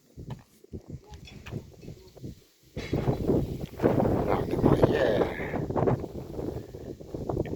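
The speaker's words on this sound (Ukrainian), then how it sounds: "Тут вроді не такий вітер. Поривчастий" Gusty wind buffets the microphone, swelling into heavy rumbling bursts, with faint voices underneath early on.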